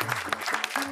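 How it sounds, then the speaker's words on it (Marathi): Brisk clapping for the contestants on a Marathi TV show stage, a dense patter of many hands at moderate volume, with tonal background sound under it. "सगळ्या स्पर्धकांसाठी जोरदार टाळ्या होऊन जाऊ द्या"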